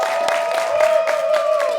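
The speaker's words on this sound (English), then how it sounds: "Please, a round of applause." A studio audience applauds and cheers for a guest on a Nigerian entertainment talk show. The sound is a dense, steady wash of clapping with scattered whoops, with music running beneath it.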